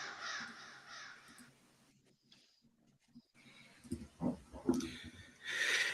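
Crows caw harshly several times in a recording played on an underground music radio show, the calls mixed with other layered noise, a quiet gap and louder swells toward the end.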